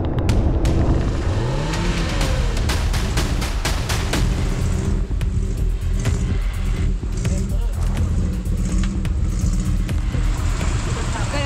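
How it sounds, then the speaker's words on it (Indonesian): Cars crossing a makeshift wooden bridge laid over a collapsed stretch of road in an Indonesian village, engines droning and revving steadily up close with clunks and rattles throughout, and voices talking underneath. "Kedua mobil udah berhasil lewat dari rintangan yang tadi amblas"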